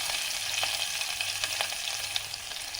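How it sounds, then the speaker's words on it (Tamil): Whole unpeeled garlic and fennel seeds frying in oil for a spicy mutton pepper sukka, a steady close crackling sizzle with scattered sharper pops throughout. "இது நல்லா ஆயிலும் நல்லா ஃப்ரை ஆகட்டும்."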